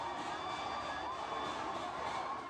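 A concert crowd cheers and applauds continuously, a dense, steady wash of claps and shouts at moderate level with no break.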